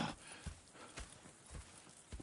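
Horses in the Red Dead Redemption II game walk with a soft, rhythmic clip-clop of hooves, several quiet paced steps heard close and fairly faint, without any talking.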